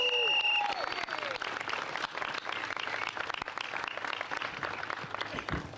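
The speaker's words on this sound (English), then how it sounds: "Let's give her a round of applause." Steady applause from a crowd at a New York City mayoral announcement, dense clapping that carries on for several seconds, loud at the start and holding evenly.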